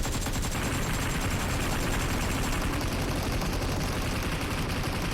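Dense, continuous rapid gunfire and explosions fill a Fortnite Chapter 3 Season 7 battle, loud and unbroken from start to finish.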